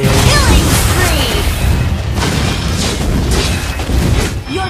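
A turret being destroyed in Mobile Legends, a loud, dense crash and booming blast with crackling debris, layered under busy game effects and voice lines.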